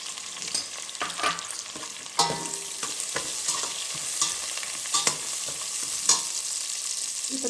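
Onions fry in hot oil with ginger and garlic for vegetable uppumavu, sending up a constant close sizzle while a spoon stirs and knocks against the pan in irregular scraping clacks.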